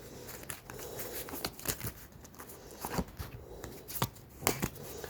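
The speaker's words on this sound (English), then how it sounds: "I'll just pull some astrology cards to see what sign" Astrology cards being pulled from a deck and shuffled, quick close riffling and flicking bursts that repeat irregularly, soft and papery, with no talking.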